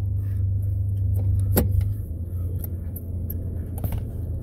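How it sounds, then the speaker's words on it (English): A 2009 Ford Ranger XLT extended cab engages four-wheel drive, a sharp mechanical clunk cutting through the steady low idle rumble of the engine, followed by a few faint clicks. "And there's your 4x4 load that just engaged."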